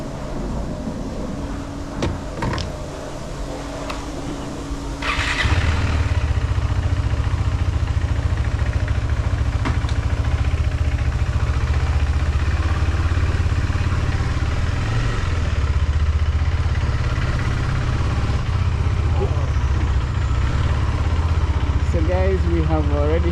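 A motorbike on an overland ride from Kenya to South Africa starts up about five seconds in and then settles into a steady, close, continuous idle rumble, with a voice briefly audible.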